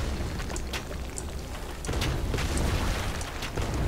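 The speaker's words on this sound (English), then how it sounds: "explosions" Explosions in the video game Trine 2 go off as a string of short bursts and pops over a steady rumbling, loud game background, with no voices.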